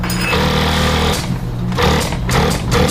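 A US Blindstitch 718 hemmer sewing machine runs a blind stitch along folded fabric with a fast, rhythmic mechanical chatter that pauses and restarts, close and fairly loud.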